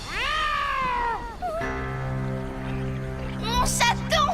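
A kitten's drawn-out, high meow over a busy background, followed by music-like sustained tones and a brief burst of chatter near the end.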